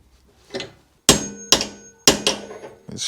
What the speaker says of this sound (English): It's quite hard to do with a hammer